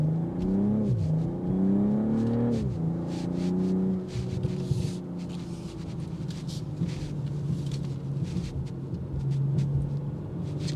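BMW M340i, 386 horsepower, accelerating hard with the engine revving up through gears and a rising exhaust note, followed by a steadier rumble with scattered crackles and pops.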